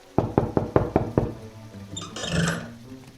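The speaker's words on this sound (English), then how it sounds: "She lightly tapped her uninjured hoof against the office door." A hoof taps lightly on an office door in a town hall, six evenly spaced knocks, close and distinct, followed by a soft rustling shuffle.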